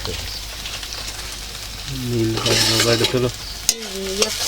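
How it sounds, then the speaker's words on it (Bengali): Onions and tomatoes frying with meat masala in a pan for a ghugni dish, a steady sizzle with stirring scrapes, a brief sharp clatter near the end, and faint voices in the background. "পেঁয়াজ আর টমেটোটা ভেজে নিয়েছি এবার অল্প করে পেঁয়াজের মধ্যেই মিট মশলাটা দিয়ে দিই"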